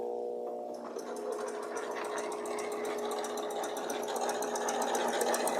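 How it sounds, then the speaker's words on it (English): A sewing machine stitching blanket-stitch appliqué runs at a slow steady pace, its rapid mechanical needle clatter and motor hum loud and close, continuous throughout with no talking. "I'm just hitting that button to tell the machine to start a new stitch"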